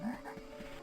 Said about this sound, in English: there's these frogs that spit at us